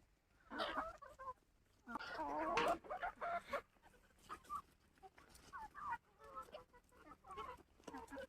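Several chickens cluck and murmur nearby in short irregular bursts while eating tamarind leaves, with rustling between the calls.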